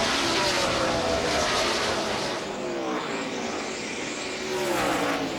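NASCAR Busch Series race cars roaring around the track at Dover in 2006, a loud continuous engine howl with shifting pitch as cars pass close by.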